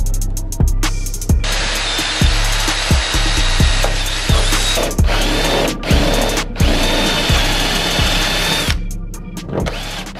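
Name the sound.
drilling holes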